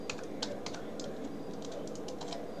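Close, fairly quiet computer keyboard typing: a quick run of irregular key clicks over a steady background hum.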